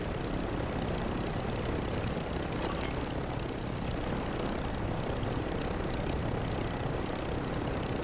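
A helicopter in a battle royale video game roars continuously and loudly with a dense rotor drone, steady and close throughout with no talk.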